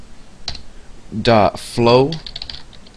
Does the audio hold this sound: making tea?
no